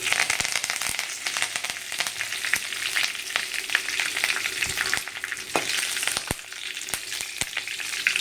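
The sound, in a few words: tempering curry leaves in hot oil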